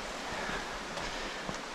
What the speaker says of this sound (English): the second half you can hear the stream the entire time